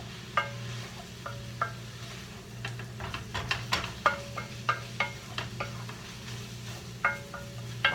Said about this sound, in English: I'm just going to get this hamburger meat browned